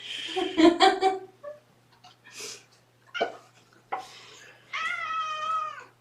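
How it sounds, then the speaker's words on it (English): A kitten meows several times close by, short calls followed by a longer drawn-out wavering meow, with a bit of breathing between. "See how he's meowing right there, looking straight up?"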